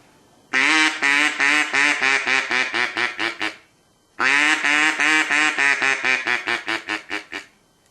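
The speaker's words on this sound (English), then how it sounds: "A hail call is basically a series of notes from 5 to 7 to 9." A duck call sounds two hail calls, each a long first quack followed by a rapid run of shorter quacks that fade away, with a pause between.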